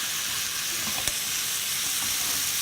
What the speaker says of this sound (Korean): 이렇게 해서 충분히 볶아준 다음에 여기다가 준비해놨던 취나물을 넣어주세요